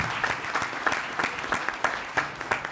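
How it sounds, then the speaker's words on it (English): An audience applauds the contestants at the close of a game-show-style search industry panel, brisk clapping from a moderate crowd with sharp individual claps, loud and steady throughout. "Please give a round of applause to our contestants."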